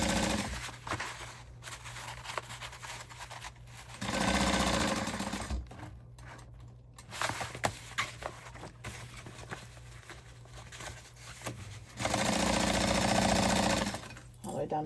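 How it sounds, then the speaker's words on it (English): A sewing machine stitches a 1/4 inch seam along a crossbody bag panel in steady runs, pausing and restarting several times, with a person talking quietly between and under the stitching bursts. "But I'm going to sew it."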